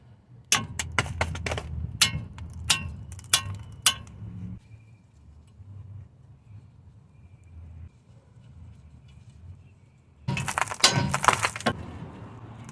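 Sharp metallic hammer blows ring out on a steering knuckle to free a ball joint on a 2004–2006 Toyota, a quick irregular series of close strikes, then a pause, then another rapid burst.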